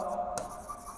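Marker or chalk writing on a classroom board, a soft scratchy stroke with a brief sharper scrape in the middle, close and quiet with no one talking.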